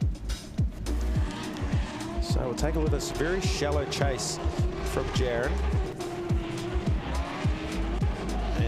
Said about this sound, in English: You hear the squeal from the 86s, right?